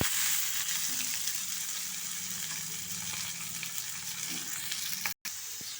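Tempering spices sizzling in hot oil for a buttermilk curry, a steady close crackle with faint utensil clinks and a brief dropout near the end.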